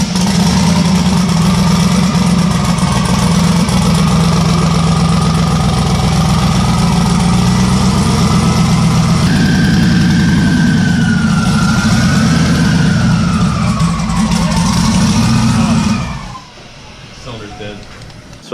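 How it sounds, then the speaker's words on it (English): A newly turbocharged car engine runs at idle for about sixteen seconds, loud and steady with a low rumbling drone and a shifting whine, then cuts off abruptly, leaving quieter background noise. "let's fire it up and do the full heat cycle to break this in"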